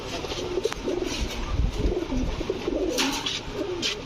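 A female Orange Chila pigeon coos in soft, repeated low calls at close range, with faint rustling and background noise around it.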